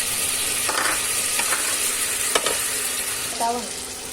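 Cut sweet potato pieces sizzle steadily in a hot pan, with a few scraping stirs and light clinks of a spoon against the metal.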